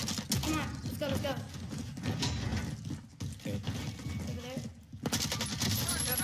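Rapid bursts of automatic gunfire from an AK-47 in Call of Duty Warzone rattle loud and near, joined by scattered shots and game effects, while players talk excitedly over the fight.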